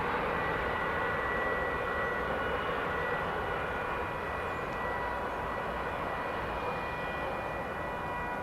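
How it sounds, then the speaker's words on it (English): An incoming airliner arriving at DFW Airport produces a steady, constant broadband engine rumble and whoosh throughout, moderately loud and unbroken, with no voices. "Turning our attention to incoming flight."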